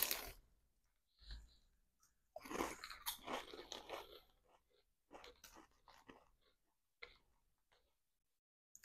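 Lay's potato chips, a deep dish pizza flavor, crunched and chewed up close in several bursts of crisp crackling, with short pauses between bites and faint background sounds.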